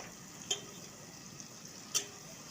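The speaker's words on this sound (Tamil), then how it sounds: "உப்பை போட்டு நல்லா வதக்கிட்டு மூடி போட்டுருங்கோ" Vegetables sautéing with salt in a pan give a soft, low sizzle throughout, broken by two sharp metallic clinks of a spoon against the pan about a second and a half apart.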